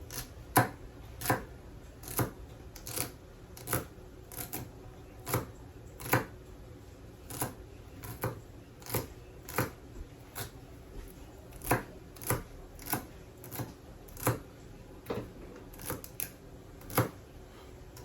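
Knife chopping celery on a cutting board while making skillet pasta quadretini, steady rhythmic sharp taps about once per second, close and fairly quiet with no talk.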